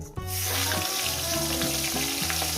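Rohu fish heads fry in hot oil in a pan, giving a loud, dense, steady sizzle and crackle that starts abruptly and continues without pause.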